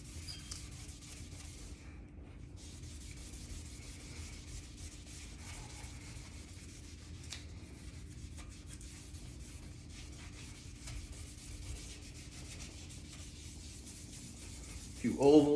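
A guitar neck is rubbed by hand for a satin finish, producing a quiet, continuous scratchy rubbing with a steady back-and-forth texture, close to the microphone and without talk over it.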